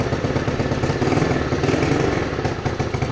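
A Chinese quad bike with a freshly overhauled engine runs close by, a steady rough mid-pitched idle rising into a gentle sustained rev with mechanical clatter, loud and continuous with no talking.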